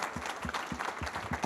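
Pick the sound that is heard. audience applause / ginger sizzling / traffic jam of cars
audience applause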